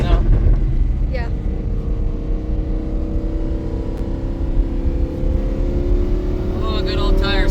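Lamborghini decorated with Christmas lights doing donuts outdoors in December, loud continuous engine roar with a sustained droning tone and rough spinning-tire noise, a few brief squeals, a voice talking partway through.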